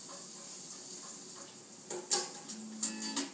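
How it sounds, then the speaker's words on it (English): Shallots cooking in about one and a half tablespoons of oil in a pan give a steady soft sizzle, with a few brief louder crackles and pops near the end. "I'll leave that in the pan to cook the shallots"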